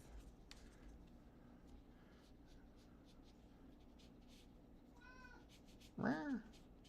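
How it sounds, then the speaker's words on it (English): A hungry domestic cat gives two meows, the second louder and longer, in a quiet room where faint scratching sounds of painting come before it. "Cat wants to be fed, so you're probably gonna hear my cat a lot."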